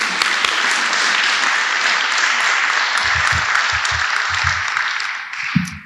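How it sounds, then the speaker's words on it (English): An audience at an oath-of-office ceremony for newly elected officials claps steadily, a dense wash of applause that holds for several seconds before thinning out at the end. "I think I need a clap."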